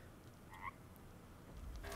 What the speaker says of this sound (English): All right, big fat froggy.